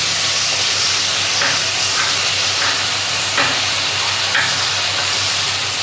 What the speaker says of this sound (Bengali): আদা রসুনের পেস্টটা আমি কষিয়ে নিচ্ছি